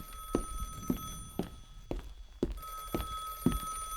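Telephone in the video game Anaria, a series of even, regularly spaced ringing pulses with a steady tone over a quiet background, heard alone.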